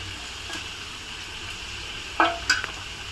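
Onions sautéing in a pan for a Tamil home-cooked palak keerai dinner, with a low steady sizzle and a few sharp stirring scrapes near the end.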